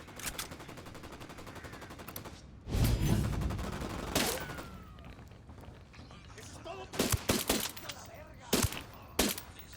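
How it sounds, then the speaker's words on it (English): Gunfire in the Ghost Recon Wildlands video game, with a heavy burst of shots and booms near a barn followed by scattered sharp single shots and short volleys, mixed with background game sounds. "Opening fire."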